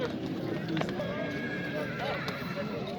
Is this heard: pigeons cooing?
no